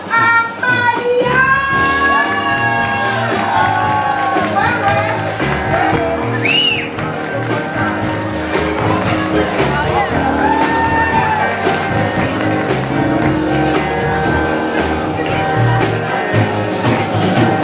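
A live audience at an evening singing competition cheers, whoops and applauds for a guest singer, a dense, loud crowd roar sustained throughout with music-like tones underneath.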